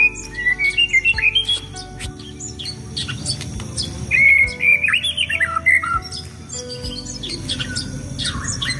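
A caged white-rumped shama (murai batu) sings loud, varied phrases of whistles, squawks and rapid chirps close by, with bursts and pauses, over a faint background of insect and cricket buzzing.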